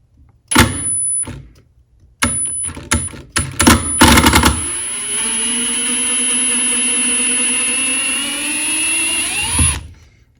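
A Metabo HPT 36V impact driver backs a screw out of wood, opening with loud bursts of rattling impacts, then settling into a sustained, steady motor whine that rises in pitch before stopping.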